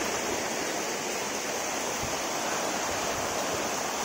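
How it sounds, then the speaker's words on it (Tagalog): Waves and a strong current wash steadily through a shallow bathing spot, a continuous, loud, broadband rush with no pauses and no voices. "Pero ang ano dito yung alon, yung lakas ng agos."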